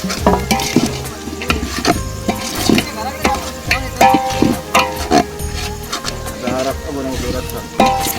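Chicken pieces stirred and frying in a pot with Malvani village masala, a village cookout: repeated metal scrapes and clanks of the spoon against the pan over a continuous sizzle, loud and close, in an irregular stirring rhythm.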